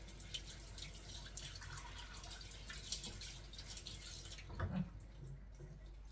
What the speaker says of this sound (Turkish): Şu bıçağımı yıkayayım.